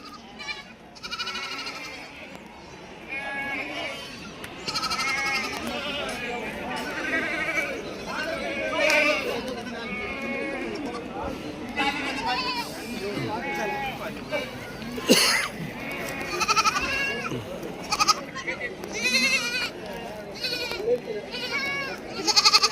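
Many goats bleat repeatedly at a busy outdoor goat and sheep market in Shirur near Pune, with overlapping calls from several animals amid constant crowd chatter and voices.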